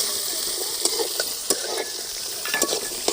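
Onions and green chillies sauté in a hot pan for drumstick soup: a bright, steady sizzle with a spoon scraping and stirring at irregular moments, close and fairly loud, and no talking.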